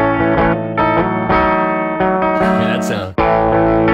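A distorted electric guitar plays the main riff of a song with effects, loud and continuous, with sustained chords and a brief cutoff near the end before resuming.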